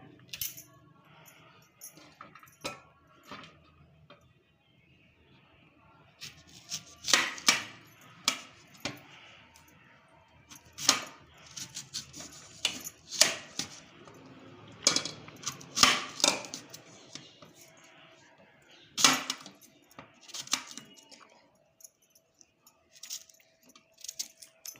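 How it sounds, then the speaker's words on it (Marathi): Knife chopping raw green mangoes on a board, a series of sharp, irregular cuts and clinks, close and fairly loud in bursts with quieter gaps between. "आता आपण कैरी चिरून घेऊया."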